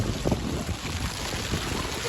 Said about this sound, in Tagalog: May hangin guys. Hangin ng balon.